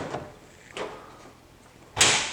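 Custom tool chest pullout in a cabinet gliding on full-extension self-closing slides, with a soft rolling slide and light knocks followed by a sharper thud as it closes, close by and quiet.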